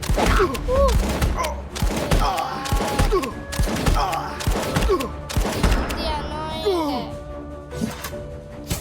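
Rapid bursts of video game gunfire crack repeatedly under excited talking, with sharp thuds spaced through the clip.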